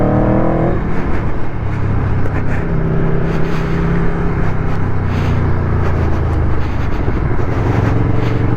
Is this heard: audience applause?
no